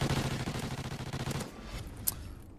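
Rapid gunfire from a Call of Duty Ghosts multiplayer match, a dense run of loud repeated shots for over a second, then sparser quieter game sounds with one sharp crack near the end.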